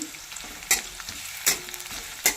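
Garlic fries in hot oil in a kadhai, a continuous close sizzle broken by three sharp scraping stirs spaced evenly apart, with no talking.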